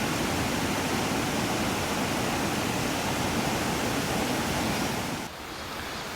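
A mountain valley stream in the Seongburam valley near Yangsan rushes in a dense, steady wash of flowing water that stays loud and continuous throughout, easing slightly near the end, with no voices.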